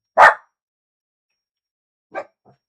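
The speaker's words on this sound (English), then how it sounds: "Boy dogs, hush." Small dogs bark indoors, one sharp loud bark, then silence for nearly two seconds, followed by a second bark and a faint short yip.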